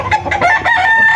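A rooster crows loudly and close by, one drawn-out cock-a-doodle-doo with some clucking around it at a poultry sale of cocks and bullstags.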